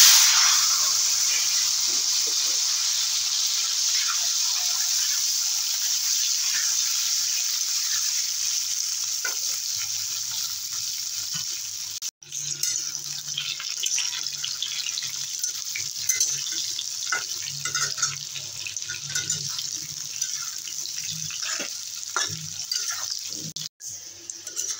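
Potatoes fry in fish-frying oil with cumin and bay leaf in a pan for a boal fish curry, a steady close sizzle with scattered stirring scrapes and clicks, briefly interrupted twice.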